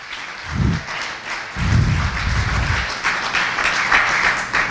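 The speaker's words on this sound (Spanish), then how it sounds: "Denle un aplauso al Señor." A church congregation breaks into applause during a Spanish-language service, claps swelling in bursts and continuing steadily at moderate volume through the moment.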